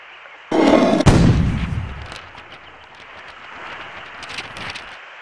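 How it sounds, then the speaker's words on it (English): A cannon in the I Spy Treasure Hunt video game fires with one loud, booming blast, followed by a long rumbling decay that fades under lighter crackling noises. "A cannon."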